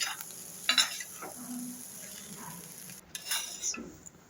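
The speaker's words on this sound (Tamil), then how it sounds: "நல்லா கிளறி ஒரு அஞ்சு நிமிஷம் சிம்லேயே வைக்கிறாங்க" Cluster bean curry simmers in a pan with a faint, low sizzle while a spoon stirs and scrapes intermittently, a few short clinks and rubs rising above the quiet bubbling.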